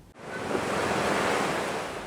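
Strong wind and high surf at Lampu 1 beach in Merauke, a steady loud roar of crashing waves and gusting wind filling the whole stretch without pause, no voices.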